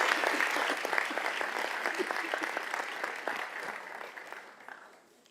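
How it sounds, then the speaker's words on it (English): Audience applause for award winners at a Board of Education meeting, a steady mass of clapping from a roomful of people that holds for several seconds and then tapers off at the end. "let's give a round of applause for all of our winners."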